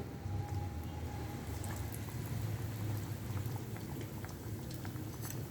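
Batter-coated potatoes frying in hot oil over a low flame, giving a steady, dense crackling sizzle that runs evenly throughout without pause, close and continuous.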